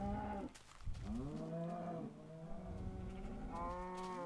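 Cows moo in the Minecraft video game, producing a series of deep, drawn-out bovine lows that overlap and follow one another, clear and fairly close, with no talking.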